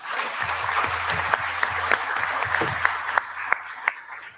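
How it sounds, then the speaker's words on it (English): An audience at an AI, security and ethics conference applauds its panel speakers with a round of steady, moderately close clapping, some sharper individual claps standing out over a low background hum. "Please join me in a round of applause for our speakers."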